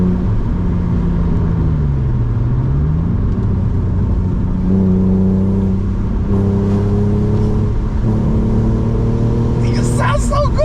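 A BMW E46 with a manual gearbox revs its engine, a steady low drone climbing and falling through several pitch sweeps, loud and close inside the car, with a brief higher-pitched burst near the end.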